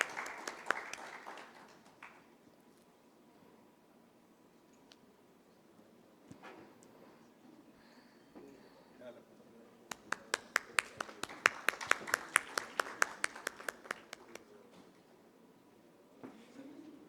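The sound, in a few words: audience applause at a conference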